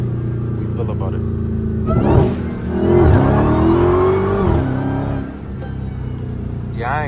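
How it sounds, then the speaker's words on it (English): A Dodge Hellcat fitted with a Pedal Commander accelerates hard, its engine rising from idle into a loud rising roar that surges twice before easing back, with a voice heard over it. "We're gonna give it the first pull off the pedal commander and see how we feel about it."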